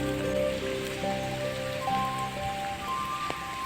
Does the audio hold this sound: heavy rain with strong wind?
yes